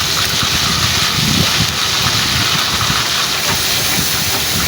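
Onion paste sizzling in a hot wok of oil for biryani, a loud, dense, continuous hiss and crackle filling the whole stretch at close range, with no talking.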